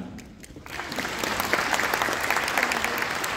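An audience at a UNESCO cultural gathering applauds the singer, the clapping swelling within the first second into full, sustained applause with crisp individual claps that stays steady to the end.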